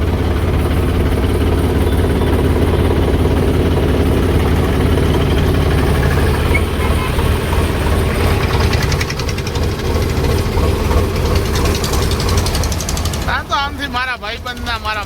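A tractor engine idles on a dewy morning with a loud, close, steady low rumble and a faint knocking pulse. A brief voice cuts in near the end.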